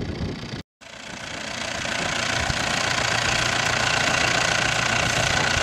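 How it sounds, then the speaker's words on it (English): An old Perkins engine on a 1960s wheat harvester runs at a steady, smooth drone with a constant mechanical rumble and vibration, close and loud, broken only by a brief dropout near the start. "But that engine is running as smooth as it ever ran. Surprising for an old Perkins like that."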